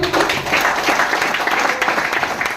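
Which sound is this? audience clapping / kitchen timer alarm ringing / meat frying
audience clapping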